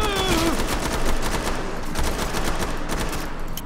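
Rapid, loud gunfire fills a Killing Floor 2 match, with dense overlapping shots and bursts hammering continuously without a break.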